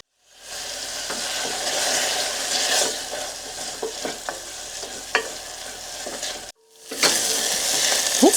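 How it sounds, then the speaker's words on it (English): Chopped tomato, sweet pepper and onion fry and get stirred in a pan, giving steady loud sizzling with scattered scraping clicks, a brief pause near the end, then the sizzle returns. "It's frying up pretty nicely"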